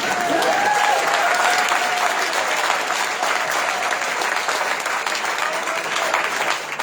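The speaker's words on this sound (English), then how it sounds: "I hope that, yeah, you can applaud." An audience at a gubernatorial candidate debate claps continuously, a dense, steady wash of applause from a sizeable crowd throughout.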